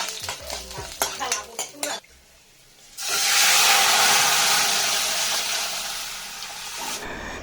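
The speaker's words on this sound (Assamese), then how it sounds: "এতিয়া পিঁয়াজ দিছো, দালিত ফোৰণ মাৰি ল'ব আৰু অলপ কালজিৰা দিছো" Onion and kalonji seeds hit hot oil to temper mung dal, bursting into a loud, steady sizzle that slowly fades, after a few seconds of stirring and clinks.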